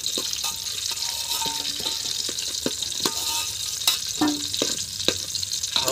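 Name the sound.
potatoes frying for chicken biryani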